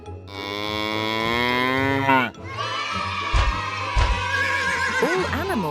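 A cartoon cow gives long, loud, tonal moos, one drawn-out call followed by a wavering second moo broken by sharp thumps.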